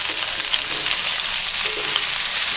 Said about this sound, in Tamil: பீட்ரூட் போட்டு ஒரு 2 நிமிஷம் வதக்கலாங்க